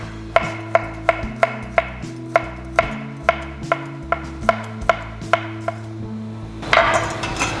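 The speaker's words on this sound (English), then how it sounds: "Garlic. Slice it, make it small." A knife slicing garlic on a cutting board for Thai panang curry, a steady series of about fifteen crisp, evenly spaced chops up close, ending with a brief scraping sweep, with no talk.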